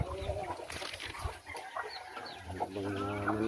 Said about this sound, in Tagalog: Mga manok lang dala.